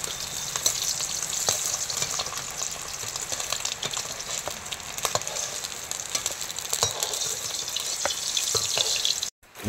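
Eggs frying in hot oil for an egg curry, a continuous bright crackling sizzle with scattered spatter pops and utensil clicks as they are lifted out, close and steady.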